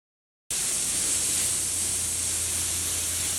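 A steady, loud hiss of water spraying starts abruptly after a brief silence and continues unbroken, with a low hum underneath.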